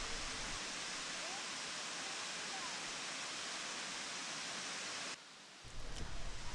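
A constant broadband roar of rushing falling water from Moore Cove Falls, a 50-foot waterfall in North Carolina, fills the clip, briefly dropping near the end before resuming.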